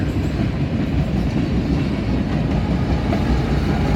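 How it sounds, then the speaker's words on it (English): A CSX westbound intermodal freight train rolls past at Deshler, led by a CSX and a CP locomotive with a pusher on the rear. It makes a loud, steady, close rumble of passing railcars with faint clickety-clack and no voices. "CSX 3062. Westbound here, intermodal at Deshler."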